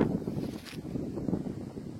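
Strong wind buffets the microphone during a gravel bike ride on a Monster gravel bike with front bags, a steady low rumble with gusty swells throughout.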